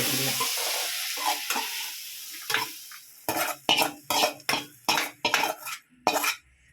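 Sautéing in a pan, a sizzling hiss at first that fades, followed by a run of sharp, rhythmic utensil scrapes and clanks against the metal, close and alone without talk.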